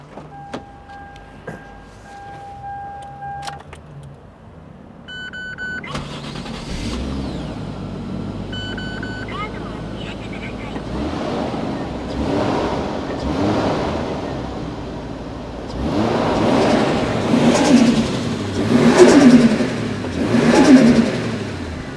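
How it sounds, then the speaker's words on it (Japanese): A Toyota Chaser JZX100 Tourer V turbo engine cranks and catches, then idles and revs repeatedly, the revs swelling louder toward the end, following a few short electronic chimes. "じゃあエンジンかけてみましょうか"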